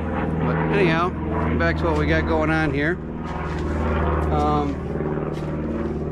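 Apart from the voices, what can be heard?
airplane flying overhead near an airport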